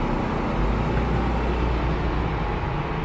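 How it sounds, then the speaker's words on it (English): A noisy food truck engine drones at night beside a parking area with blinking red lights, a steady, loud low rumble and hiss that stays constant throughout, with no voices. "and the noisy food truck."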